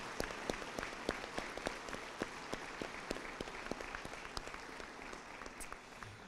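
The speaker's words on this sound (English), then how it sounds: "Would you please give them one more round of applause?" Audience applause at a community salute-to-service ceremony, steady scattered clapping from a moderate-sized crowd heard at a distance, continuing at even volume throughout with no talk over it.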